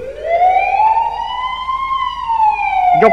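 A voice imitates a police siren, a loud sustained wailing tone that slowly rises and falls, performed close up as Tamil mimicry, ending with a brief sharp burst.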